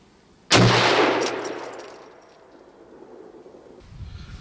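A single loud, close rifle shot from a Daniel Defense Delta 5 in 6.5 Creedmoor at an outdoor target range, a sharp blast followed by a long decaying rumble and echo rolling off over a few seconds.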